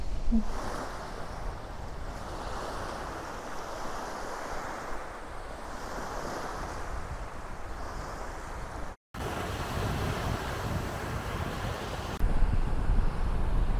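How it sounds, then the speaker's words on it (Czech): Wind and waves at the Zaslavl reservoir, the Minsk Sea, make a steady broadband rush of surf and gusty wind buffeting the microphone, continuous and fairly loud with a brief dropout partway, no talking. "To je Zaslavská vodní nádrž, ale Bělorusové tomu říkají Minské moře, opravdu jako moře."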